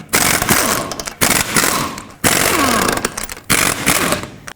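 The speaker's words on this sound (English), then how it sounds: "21mm socket, take off all 5 of your lug nuts." Four loud bursts of a pneumatic impact wrench, each roughly a second long and separated by brief gaps, spinning off the lug nuts with a 21mm socket on a 1997-2003 Ford F-150 rear wheel.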